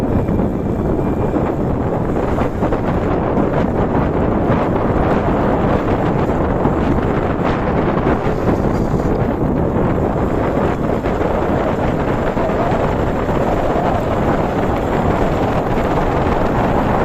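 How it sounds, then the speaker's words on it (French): Wind buffets a microphone outdoors during an electric mountain bike ride, a loud, constant roaring rumble that fills the whole stretch and drowns out everything else. "Il y a un peu de vent aujourd'hui"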